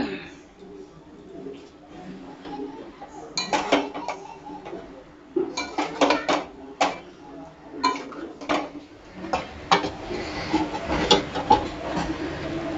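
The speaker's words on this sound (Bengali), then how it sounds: "আমি এটাকে ভালো করে কষিয়ে নেব।" Gila tengri being stir-fried in a pot, with a metal spatula scraping and clattering against the pot in irregular bursts, close and fairly loud, with a voice talking at times.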